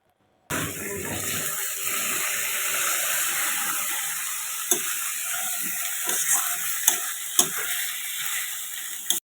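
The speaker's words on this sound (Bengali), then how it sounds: "তো এটা এখন দিয়ে একটু নাড়াচাড়া করে, মানে একটু ভাজা ভাজা করবে আর কি।" Bitter leaf paste fries in a pan with a steady sizzle, broken by a few sharp clinks of a spoon stirring against the metal.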